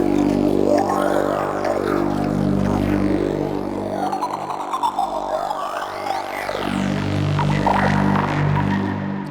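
A synth patch in Arturia Pigments 3 with a phase shift delay plays a thick, droning, harmonic-rich tone, loud and continuous, with throbbing and sweeping swirls that shift over time.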